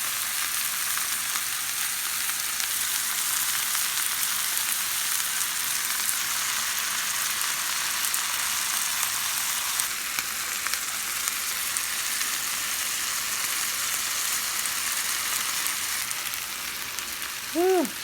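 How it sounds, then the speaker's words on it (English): Onions and beef bulgogi fry in a cast iron pan with a steady, even sizzle that holds for the whole stretch, close and fairly quiet, with a faint clink near the end. "we're going to go ahead and throw in our remaining onions into our cast iron"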